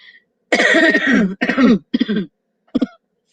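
A person in a late-night live chat coughs in a few harsh, close bursts: one long fit, two shorter ones, then a final brief cough after a pause.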